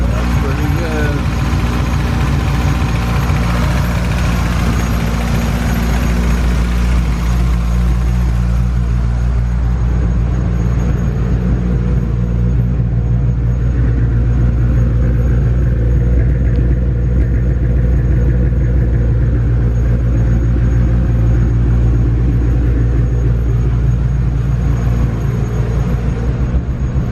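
A 1990 Eagle Talon engine idles after a cold start with a loud, steady low rumble that holds throughout, and a voice speaks over it.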